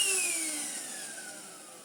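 A HoLife 14v cordless wet and dry vacuum cleaner whines down after running, its motor pitch falling steadily and the sound fading over a couple of seconds, close and alone.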